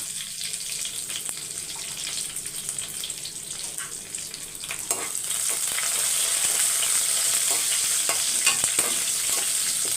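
Mustard seeds with green and dried red chilies spluttering in hot oil in a home kitchen, a soft hiss that swells into a louder, denser crackle over the second half.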